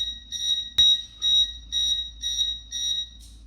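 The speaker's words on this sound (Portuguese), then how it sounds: "E esse é o alarme." A W1209WK digital thermostat sounds its temperature alarm: a sharp, close electronic beeping repeats about six times in a steady pulsed rhythm, with one brief click partway through and no one talking.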